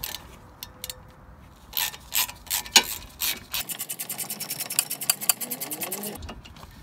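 Brake caliper sliding pins being undone on a Vauxhall Corsa E, a rapid series of close ratchet clicks in two bursts with a short pause between, loud and alone.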